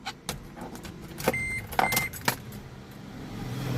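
Ignition key in a car being switched off and back on, with a few short clicks and key jangles, soft electronic tones and a faint whir like a power window over a steady low hum.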